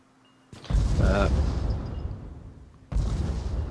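Spaceship in a video game taking weapon fire, heard as two abrupt heavy booming blasts, the first with a crackling rumble that slowly decays before a second hit strikes near the end.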